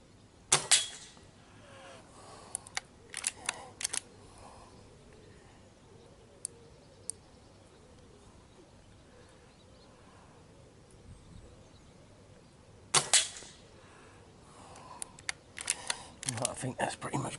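An Air Arms S410 Classic air rifle fires while its scope is zeroed at 25 yards: sharp, close reports and mechanical clicks, a cluster near the start and another around thirteen seconds, with quiet talk in between.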